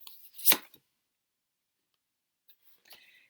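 A deck of tarot cards being cut, one sharp riffle-like snap up close followed by a pause and a couple of faint card shuffles.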